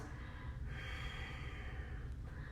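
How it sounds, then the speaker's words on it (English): Long, slow yoga inhales and exhales, close and breathy, with one drawn-out breath swelling through the middle of the clip against a steady background hiss. "We can get longer inhales, longer exhales."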